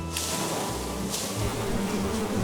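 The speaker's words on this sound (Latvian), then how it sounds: "un tagad ļausim bitēm pašām ar nelielu mūsu dalību ieiet jaunajā stropā. Kratam iekšā bišķi spietu." A honeybee swarm is shaken into a new hive, filling the air with a loud, dense, continuous buzzing drone of many bees up close, with no talk.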